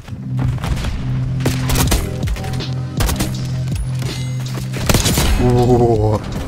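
Rapid automatic gunfire in the video game Black Ops 6, repeated loud bursts of shots with sharp booming impacts throughout, ending in a fast stuttering volley, with a player's voice talking over it.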